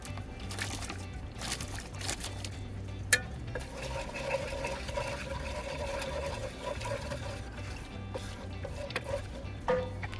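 Steady bubbling and simmering soy sauce, mirin and brown sugar in a pot, a continuous close hiss and gurgle with occasional small pops.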